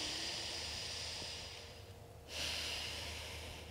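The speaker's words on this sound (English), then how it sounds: "We're gonna breathe in and out through our nostril." A child breathing through one nostril, a long airy inhale fading out, then a brief pause and a sharper hissing exhale, close to the microphone and quiet.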